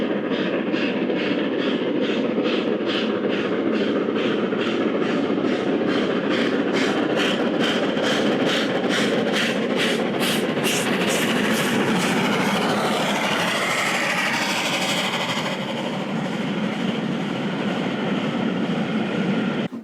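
An LMS Jubilee three-cylinder steam locomotive runs steadily with a loud, continuous exhaust beat and rail rumble, with a rapid rhythmic chuffing pattern building midway and no voices.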